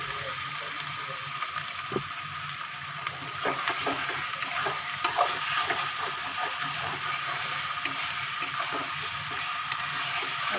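Fish masala with mustard and cumin paste cooks in a pan after a splash of water, giving a steady close hiss with busy crackling and small pops throughout.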